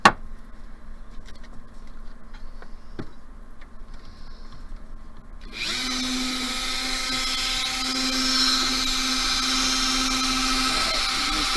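A small high-pitched rotary drill whines quietly at first, then bites loudly into a metal pendant halfway through and keeps grinding steadily until the end.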